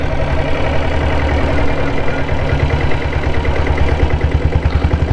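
A red Deluxe diesel Bullet motorcycle with a 7.5 hp engine runs at a steady idle, its loud, close, low thumping beat pulsing evenly with no voices.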